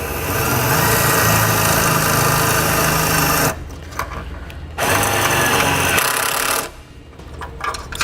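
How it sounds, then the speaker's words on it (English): Power driver runs self-tapping screws into the core support of a 2012 GMC Terrain, a loud, steady whirring burst lasting several seconds, pausing, then a second shorter run before another stop. "Using our self-tapping screws,"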